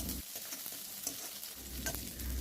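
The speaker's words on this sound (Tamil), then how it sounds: "இதை நல்லா வதக்கிடுங்க." Shallots and garlic sizzle steadily in hot oil in a pan for a Chettinad pakkoda kulambu, with the crackle holding loud and continuous and occasional stirring scrapes, and no talking.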